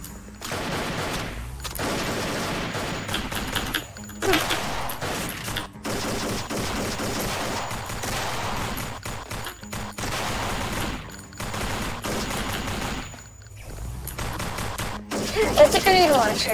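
Sustained bursts of rapid automatic gunfire from weapons in the video game Thing Thing 4, loud and dense, broken by a few brief pauses between volleys.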